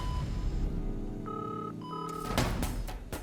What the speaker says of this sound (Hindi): हाँ, मैं अभी देवी वन्ना भाभी को फोन लगाता हूँ